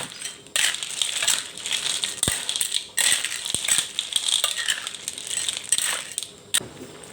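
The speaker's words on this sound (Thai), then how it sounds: "จากนั้นเราก็จะผัดไปอีกค่ะจนกว่าหอยของเราจะสุกค่ะ" Snails are stir-fried in a pan with continuous close rattling and scraping of shells against the metal, plus a few sharp clinks.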